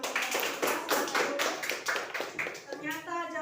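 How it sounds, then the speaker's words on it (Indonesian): A classroom of students claps in a few uneven bursts, close and lively, with a voice speaking briefly near the end. "Terima kasih, tepuk tangan dulu."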